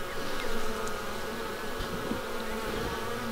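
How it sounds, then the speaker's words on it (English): Dense, steady buzzing of many honey bees swarming close by at a hive, a continuous insect hum with no voices. "A lot of bees."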